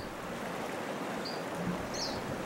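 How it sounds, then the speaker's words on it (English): Creek water flowing over fractured bedrock, a steady broadband rush that stays even and fairly close throughout, with a faint high chirp briefly above it. "head down to the creek for the day"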